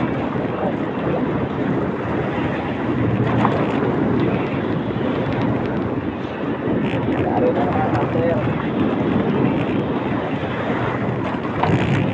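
Strong wind buffets a small fishing boat at sea while fishing for yellowfin tuna and skipjack, a loud, steady roar of gusts and microphone rumble with water wash, and people talking underneath.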